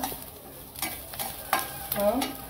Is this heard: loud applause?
no